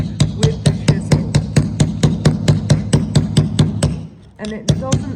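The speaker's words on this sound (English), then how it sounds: "I'm going to be sort of following that form around with the chisel" A chisel struck steadily by a mallet while carving a limestone owl, giving a fast, even series of sharp ringing knocks close by, with a brief pause before a few more blows.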